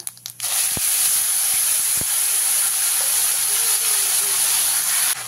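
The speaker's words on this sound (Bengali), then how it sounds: "পেঁয়াজটা দিয়ে ভালো করে ভাজা ভাজা করে নিয়েছি" Loud, steady hiss of onion paste frying in hot oil with whole cumin, continuous throughout, with a couple of brief clicks near the start.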